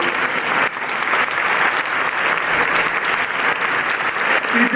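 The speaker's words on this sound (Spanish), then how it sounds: "así que un fuerte aplauso para ella también." Audience applause fills a Holy Week proclamation event, a steady, dense clapping from a large crowd that holds at an even level throughout without pause.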